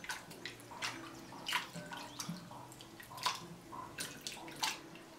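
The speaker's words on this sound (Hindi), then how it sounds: "इसमें डालेंगे थोड़ा सा पानी और डालेंगे थोड़ा सा सिरका, वाइट सिरका 1 टीस्पून के करीब, और इसको अच्छी तरह धो लेंगे एक दफ़ा" Raw chicken pieces are washed by hand in water with a small splash of white vinegar. Quiet, irregular splashes and drips are heard close by, with no talking.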